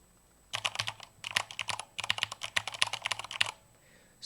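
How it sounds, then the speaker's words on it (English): Clicky keystrokes on a Corsair K100 keyboard fitted with Cherry MX Speed switches, typed close to the mic in quick irregular bursts, with one short pause between runs and no voices. "let's hear the speed switches"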